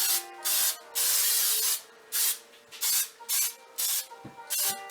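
Cooking spray hissing into a bundt cake pan in a run of short and longer bursts, close and loud, separated by brief pauses and a couple of light knocks, no voices.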